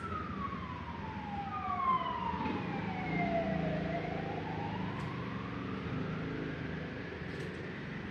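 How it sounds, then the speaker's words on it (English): A passing ambulance siren wails in a continuous falling-then-rising sweep, moderately loud over steady street traffic noise, with no talking. "while this ambulance was passing"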